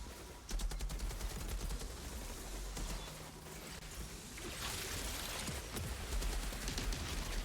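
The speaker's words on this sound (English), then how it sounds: "I love it when those rockets hit." Rockets hitting in the Technomancer shooter game Worldslayer, rapid bursts of gunfire-like impacts and explosions layered over a dense, continuous roar of combat noise.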